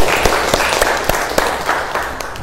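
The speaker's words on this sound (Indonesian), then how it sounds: "Mari kita tepuk tangan untuk Inna Mursalina." A classroom of children claps together, a short burst of distinct hand claps that are fairly close and loud, with the group clapping roughly in rhythm before fading.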